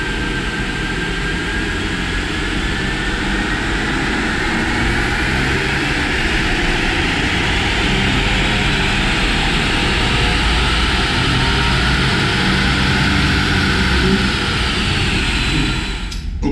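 A tuned 2020 Ford Explorer engine roars steadily through dyno pulls, a loud continuous drone with a slowly rising pitch sweep that holds for over fifteen seconds and cuts off at the end, with no talking.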